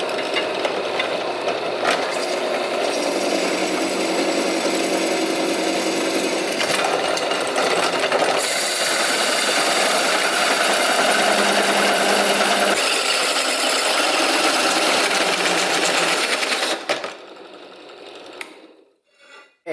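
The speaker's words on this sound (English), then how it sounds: "you saw me drill in the holes for the manifold plate" A drill boring holes in a metal intake manifold plate for a Vortec 4200 2JZ swap, a loud continuous whine with shifting pitch running for about seventeen seconds before spinning down and stopping.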